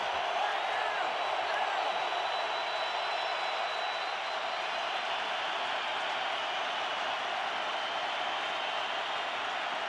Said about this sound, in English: with the crowd roaring